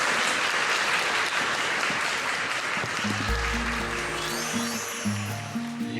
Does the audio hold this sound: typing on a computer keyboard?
no